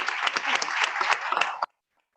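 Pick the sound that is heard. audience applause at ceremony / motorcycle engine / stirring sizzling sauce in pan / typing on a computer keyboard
audience applause at ceremony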